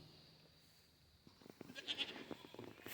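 Goats bleat on a farm, a few calls rising over a quiet outdoor background in the second half after a near-silent start.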